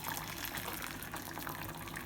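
Steady stream of boiled water from a kettle pouring and splashing into a container, continuous and fairly quiet, with no voices.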